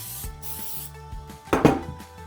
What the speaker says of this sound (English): I'm going to give my pan a little spray